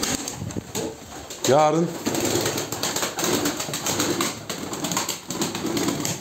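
Gökperçem pigeons cooing in a loft, with a short, clear burst of rhythmic cooing near the start, then a busy, continuous background of birds and room noise while someone talks over it.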